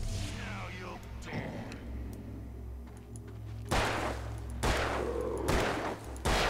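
Gunshots in the Alan Wake video game, a few sharp loud reports spaced a second or so apart over a low ambient game drone.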